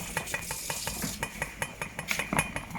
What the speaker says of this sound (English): I'm just trying to stir it up so that no one burns from under those yams that stick under the pot.